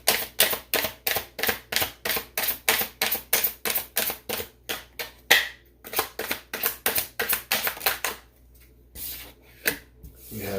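Tarot cards are shuffled and laid out in a fast, regular run of crisp riffling rubs, close and distinct, then slowing to a few separate slaps and slides.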